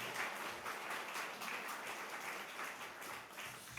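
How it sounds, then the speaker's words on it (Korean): Church congregation giving warm applause to welcome a guest pastor, a steady wash of many hands clapping, fairly distant and even throughout. "우리 강사 목사님 따뜻한 박수로 환영하도록 하겠습니다"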